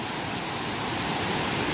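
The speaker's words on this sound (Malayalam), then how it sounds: "ഇതേ കാണുന്നതാണ് വെള്ളച്ചാട്ടം." A hidden waterfall deep in a forest, heard as a steady, dense roar of rushing water, loud and continuous throughout, with nothing else audible over it.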